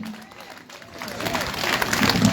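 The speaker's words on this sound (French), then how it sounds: "Avant, un grand applaudissement" Applause from the crowd at an LKP political meeting in Guadeloupe about the water crisis starts faint and swells into loud, busy clapping over the second half.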